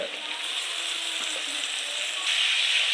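Tomatoes go into hot oil with a frying spice masala for fish biryani, giving a steady, close hiss of sizzling that swells slightly toward the end.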